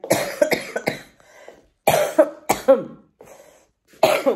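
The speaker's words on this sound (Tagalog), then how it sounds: "Pag nagsasalita ako na matagal, inuubo talaga ako." Several harsh coughs from a sick, exhausted person come in three clusters, close and loud, separated by brief quiet gaps.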